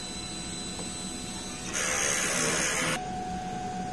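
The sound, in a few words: DTF printer running head cleaning cycle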